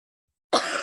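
A single sharp cough bursts out after a moment of silence, close and fairly loud.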